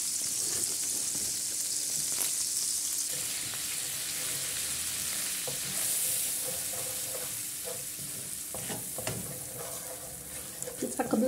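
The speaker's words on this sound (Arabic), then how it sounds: "نقليوها هكذا مليح." Flour cooking in melted butter as it is stirred, a continuous close sizzle with scraping strokes of the spoon and faint clinks near the end, heard without speech.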